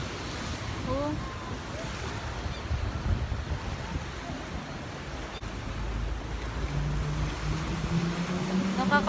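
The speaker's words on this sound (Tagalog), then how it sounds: "Lakas ng alon ah." Strong ocean waves surge and break on a shore, a steady loud wash with wind buffeting the microphone and faint voices now and then.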